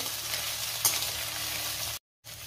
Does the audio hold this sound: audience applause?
no